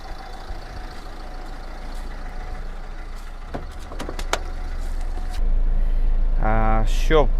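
2010 Renault Laguna engine starting: a few clicks and cranking, then the motor catches and settles into a steady idle, with a brief voice near the end.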